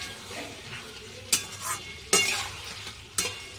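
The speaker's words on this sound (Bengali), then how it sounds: "আর এবার মাছগুলো দিয়ে দেবো সঙ্গে, মাছগুলো দিয়ে একটু নাড়িয়ে চাড়িয়ে নেবো।" Tengra fish are stirred into spices frying in a pan. Quiet sizzling runs throughout, and three or four sharper scraping strokes of the spatula stand out at irregular intervals, close by and with no talking.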